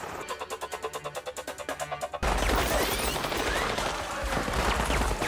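Gunfire in the Mission Impossible 2 video game: after a steady pulsing game tone, loud rapid automatic shots burst in and continue as a dense, sustained fusillade to the end.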